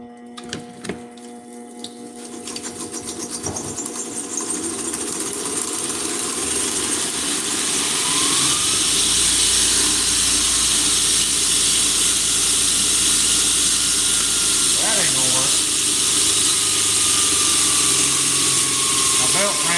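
A vehicle engine fires up and settles into a steady, loud running drone with hiss, building over the first few seconds and holding through the end, with brief voices and clunks underneath.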